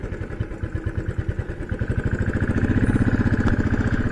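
Motorcycle engine on a forest road, a rapid, even thumping that starts steady and builds louder as the bike revs and pulls away, close and without talk.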